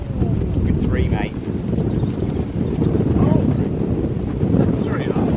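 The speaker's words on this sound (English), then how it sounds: "It's just gone 15, 20 miles an hour more, that wind, man." Strong outdoor wind roars steadily and loudly across the microphone on a gusty day, with people talking and calling out over it.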